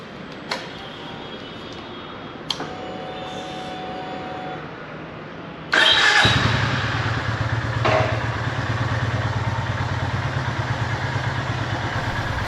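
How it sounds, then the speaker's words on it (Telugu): Motorcycle parked in a basement cellar, exhaust rumbling steadily at idle after a few faint clicks, a loud close low throb that continues evenly to the end. "సో బండి ఎగ్జాస్ట్ మాత్రం అసలు అదిరిపోయింది"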